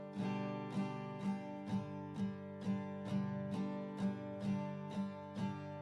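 A guitar strummed repeatedly in a steady rhythm, about ten chords ringing out one after another, close and clear with no voices.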